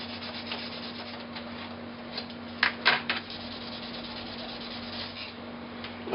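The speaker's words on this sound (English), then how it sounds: "I will sand it down just so that it will look good" Sandpaper rubbing the damaged end of a diorama base piece, a faint scratchy friction texture over steady hum, with a few brief louder strokes near the middle.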